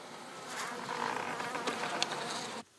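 Honeybees buzz steadily around a professional beekeeper's hives, a dense, continuous drone from many insects at close range, with no talk, ending abruptly.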